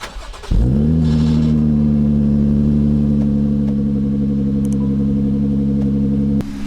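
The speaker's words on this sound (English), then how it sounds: "for a V6 Jeep, it doesn't sound too bad, right?" A Jeep Grand Cherokee 3.6L V6 engine with a new exhaust cranks and catches, then settles into a steady, deep idle with a throaty exhaust rumble, close and loud, running until the end.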